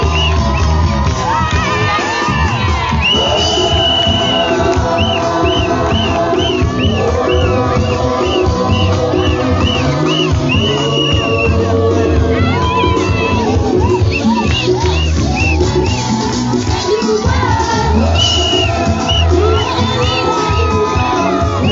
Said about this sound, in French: Cela nécessite que l'on applaudisse très fort.